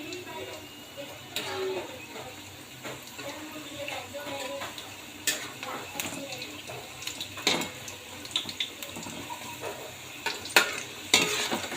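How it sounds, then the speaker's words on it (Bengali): Chicken roll pieces sizzle in a pan amid scraping and stirring, with sharp clinks and clatters of utensils getting busier toward the end. "আর এটা এক পিঠ ভাজা হয়ে গেছে"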